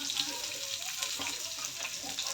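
Garlic frying in oil on an iron tawa while making pithla, a steady, fairly soft sizzling hiss that carries evenly throughout.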